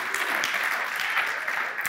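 A church congregation at a sermon claps in steady, dense applause filling the room, sustained and fairly loud with no speech over it.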